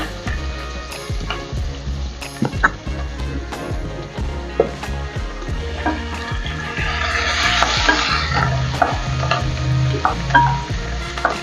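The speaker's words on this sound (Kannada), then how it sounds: "ಈರುಳ್ಳಿ ಚೆನ್ನಾಗಿ ಫ್ರೈ ಆಗಲಿ ಸ್ವಲ್ಪ ಬ್ರೌನ್ ಕಲರ್ ಬರಲಿ" Sliced onions with mustard seeds and curry leaves frying in a pan for gorikai palya, a loud continuous sizzle with popping crackles and stirring knocks, swelling brighter toward the end.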